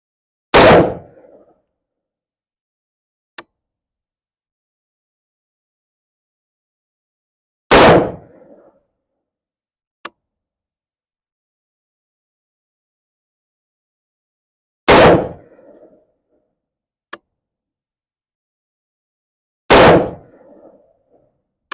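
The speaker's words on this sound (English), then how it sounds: "I'm gonna shoot 5 more rounds here and finish up what we like to call grouping." A Daniel Defense V7 rifle fires at an outdoor range, each sharp report followed by a short decay and spaced several seconds apart, with faint clicks in the quiet between shots.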